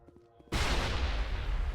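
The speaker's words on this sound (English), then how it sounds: "Nope, that's a grenade." Grenade explosion in the video game Mass Effect, a sudden loud blast after a quiet moment, followed by a sustained rumbling roar that fills the rest of the moment.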